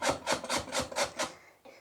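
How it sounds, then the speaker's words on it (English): A carrot is grated by hand for a chicken and noodle wrap filling, producing about six quick, even, rasping strokes close up before trailing off. "I like to grate a carrot"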